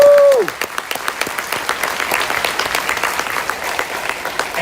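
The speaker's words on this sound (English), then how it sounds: "So we will give them a round of applause." An audience claps for choir students at a school pops concert; a held tone fades out at the start, then steady applause from many hands fills the room.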